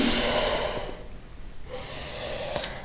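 Steady, audible breathing of a person holding downward-facing dog pose in a yoga class, a long exhale, a pause, then another exhale, close and clear with a brief sniff near the end.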